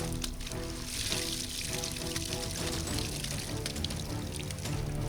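Water gushes steadily from a pipe into a flooded rice paddy, a continuous loud rushing pour with no pauses and no voices.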